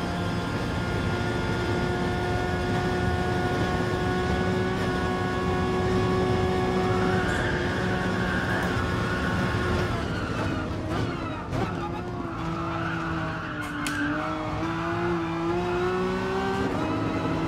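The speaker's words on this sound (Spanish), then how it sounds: "vamos a ver la potencia del Megane" Renault Megane Trophy race car engine in GT Sport at the Nürburgring, held near full throttle with a steady high-revving drone that lifts and shifts pitch through gear changes and cornering, loud and continuous throughout.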